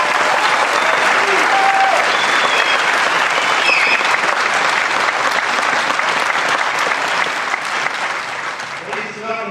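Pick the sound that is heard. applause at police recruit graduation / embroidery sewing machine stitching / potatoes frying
applause at police recruit graduation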